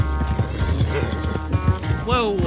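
Horse hooves galloping in the video game Red Dead Redemption 2, a quick, rhythmic clip-clop running throughout, ending with a neigh, while a voice exclaims over it.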